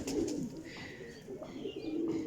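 Prized Teddy pigeons coo softly at close range, several low rolling coos repeating through the clip, with faint background rustle and no talking.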